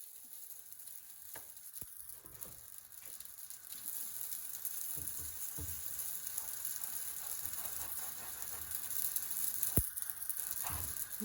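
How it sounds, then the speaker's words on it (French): Batbout dough cooking in a hot frying pan with a little oil over medium-high heat, a soft, steady sizzle and crackle with a few sharp pops, fairly quiet and without talk. "j'ai mis une poêle chaude avec un petit peu d'huile"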